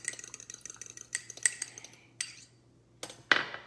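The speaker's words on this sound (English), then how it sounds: "Take a fork and just mix up my egg." A fork whisking a cracked egg in a small bowl: rapid light metallic clinks in a quick rhythm, close and clear, thinning out and ending with a few louder taps against the bowl.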